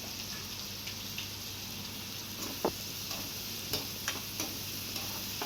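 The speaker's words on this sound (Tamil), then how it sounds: "சேர்த்து நல்லா வதக்கிக்கணும்" Onions and three finely chopped ripe tomatoes are sautéed and stirred in a pan with salt while cooking a dried anchovy fish curry, giving a steady low sizzle with occasional soft clicks and scrapes of a spoon.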